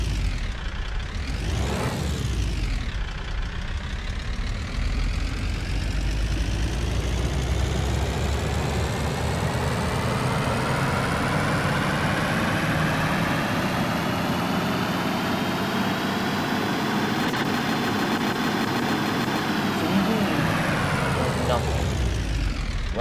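A turbo diesel car engine in Car Mechanic Simulator 21 revs up sharply, then settles into a steady, loud drone that holds for about twenty seconds before dropping off near the end.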